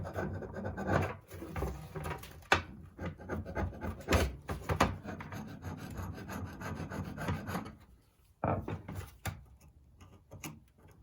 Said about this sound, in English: We can work on getting the rest of this gasket off.